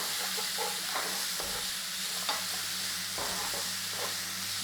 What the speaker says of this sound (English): Little stir fry